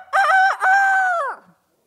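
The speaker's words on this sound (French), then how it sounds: "Et le coq a chanté." A rooster crows once, loud and close, a long strained cock-a-doodle-doo with a brief break near the start, then it trails off into silence.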